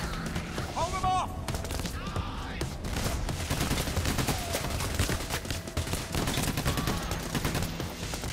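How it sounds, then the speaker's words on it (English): Sustained automatic gunfire and rapid shots in Payday: The Heist's slaughterhouse shootout, loud and continuous, with voices talking under the barrage. "Keep shooting, keep shooting"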